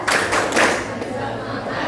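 Students clap out a rhythmic chant, a few sharp group claps and thumps at the start followed by quieter patterned tapping, with voices chanting along close by.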